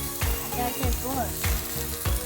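Chicken sizzles in a pan, cooked without oil by kids: a steady close sizzle broken by regular soft thumps, with a tuneful background running underneath.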